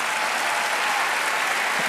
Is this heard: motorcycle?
no